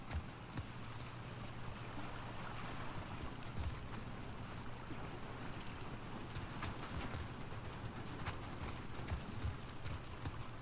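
Steady rain falls throughout a scene in The Last of Us Part II, a constant dense hiss of drops on surfaces with scattered sharper patters and a low rumble underneath, with no talking.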